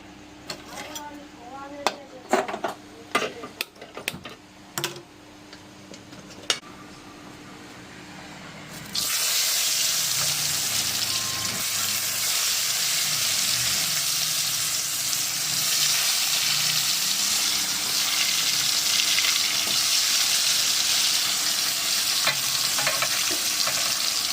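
Food fries in a pan at night in a home kitchen, starting with scattered knocks and clatter, then a sudden loud, continuous sizzle that holds steady to the end.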